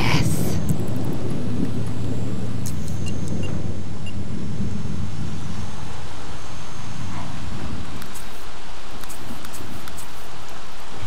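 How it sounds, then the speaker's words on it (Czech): Thunderstorm in The Sims 3, a loud, steady wash of rain and wind with rumbling thunder, and a few faint game chimes high above it. "Bouřka."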